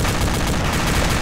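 Light gunfire in Arma 2 while riding in a light vehicle, heard as a dense, loud, continuous rattle of shots with no pauses.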